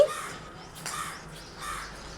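A crow caws a few times outdoors, the harsh calls moderately loud over light background noise.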